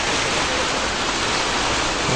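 Heavy rain pours in Mirzapur, a dense, unbroken hiss filling the air at close range, loud and even throughout.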